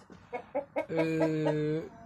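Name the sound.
hen and rooster clucking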